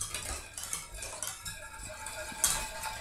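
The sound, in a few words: stirring coconut cream mixture in a pot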